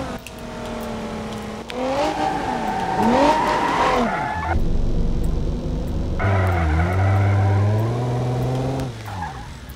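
Tires squeal and skid in long wavering tones on a wet road over a revving car engine in BeamNG.drive, loud and continuous, with the engine pitch rising and falling.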